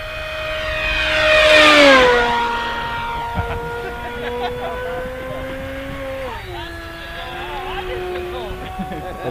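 A 52-inch Extreme Flight Speed Freak Pantera RC airplane screams past close and loud with a rising-then-falling whine, then its engine drones on more steadily at a distance, with brief thumps and faint voices.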